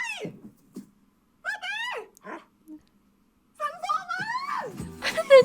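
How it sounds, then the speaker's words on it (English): A dog gives a few whimpering yips and whiny vocalizations in short bursts, close by in an indoor room, with some background sound between the calls. "The dog made a noise in response."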